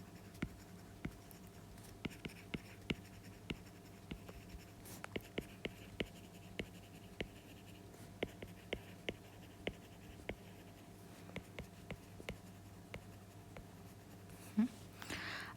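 Pen scratching across paper in a quiet room while German verbs are written out by hand, with short irregular strokes and taps repeating steadily throughout, close and soft with no talking.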